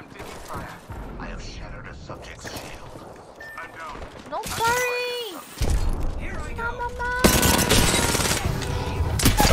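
Rapid gunfire from an Apex Legends match, bursts of shots mixed with mechanical clicks and game effects, growing louder and denser toward the end, with a person talking over parts of it.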